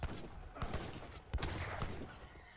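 Cannon fire in an Age of Empires III battle, heard as dense overlapping booms and crackling volleys, with two strong blasts near the start and middle standing out over continuous battle noise.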